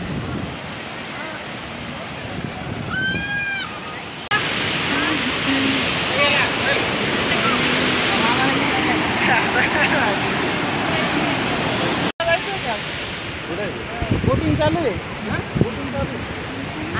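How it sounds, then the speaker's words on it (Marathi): The Pravara waterfall roars with a heavy flow of water, a loud, continuous rushing wash heard up close throughout, with people's voices and a brief chirp mixed in. "तुम्ही बघू शकता किती मोठा हा फॉल आहे आणि किती जास्त पाणी आहे"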